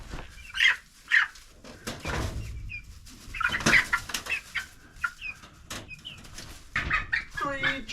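Chickens being moved one by one into a coop cage cluck and squawk in bursts, with wing flapping and scuffling close by, while a person talks softly and reassuringly between the sounds.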